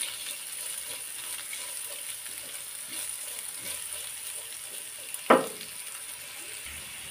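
Chopped onions frying in oil over already-browned garlic, a steady soft sizzle with faint crackle throughout, broken by one brief sharp clatter near the end.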